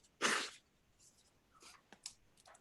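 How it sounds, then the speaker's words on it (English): A single loud, breathy sneeze bursts out near the start, followed by faint scattered rustles and small noises. "Oh, I'm going to sneeze."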